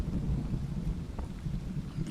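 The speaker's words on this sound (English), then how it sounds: "sounds like thunder." Low rumbling thunder rolls under a steady hiss of rain in the top-down pixel-art shooter ZERO Sievert, a soft continuous storm ambience with no voices.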